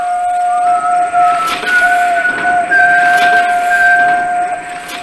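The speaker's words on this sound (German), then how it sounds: "Emma schnaufte und pfiff vor Vergnügen" Steam locomotive in a children's audio drama setting, giving steady whistle tones that slide and shift pitch over a continuous hissing puff, loud and close with no voices.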